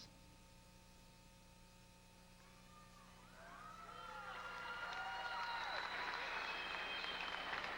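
A crowd at a 1991 women's junior nationals bodybuilding show breaks into applause during a posing routine, starting quiet and swelling into steady, full clapping with whistles and cheers rising over it.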